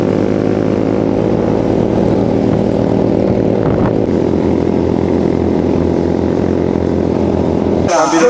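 Motorcycle taxi (ojek) engine climbing a mountain road toward Gunung Kelud, a loud, steady droning hum that shifts pitch partway through as the rider changes gear, ending with a brief burst of noise.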